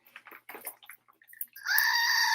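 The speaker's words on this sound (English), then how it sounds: "And Billy Goat screaming" A billy goat lets out a loud, sustained bleat near the close, harsh and strained like a scream, after a run of quieter scattered sounds.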